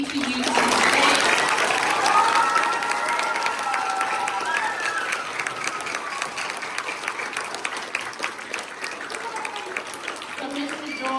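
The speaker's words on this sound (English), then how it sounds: "give the loudest and most appreciative applause to these gentlemen" A room of students gives loud, sustained applause to two guest speakers, with cheering voices at the start. The clapping stays dense and close, then thins gradually toward the end.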